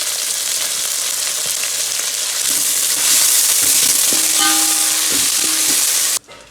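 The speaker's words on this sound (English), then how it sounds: "Now you can see that the onion is fried to light brown color" Onion sizzling in a hot pan with ginger garlic paste and mint leaves for chicken biryani, a steady loud frying hiss with intermittent stirring scrapes, then a sudden drop as it cuts off near the end.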